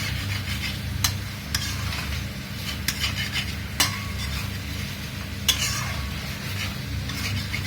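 Pork curry in a pot stirred with a metal spoon, scattered scrapes and clinks against the pot over a continuous low simmering hiss and a background hum.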